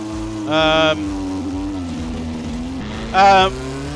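A Toleman T184 turbocharged Formula 1 car in Assetto Corsa drones steadily at a high pitch, with two brief louder bursts of rising engine note standing out over the continuous hum.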